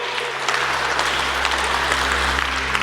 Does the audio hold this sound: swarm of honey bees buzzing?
no